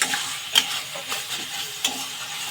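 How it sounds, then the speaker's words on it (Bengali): Vegetables are stirred in a pan with mustard oil: a soft, continuous sizzle broken by a few sharp spatula scrapes and clinks. "সরষের তেল দিয়ে দেবো, নাড়িয়ে চাড়িয়ে নামিয়ে নেব"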